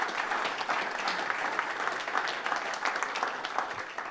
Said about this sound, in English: Big round of applause for Chauncey.